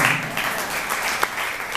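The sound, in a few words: round of applause from the audience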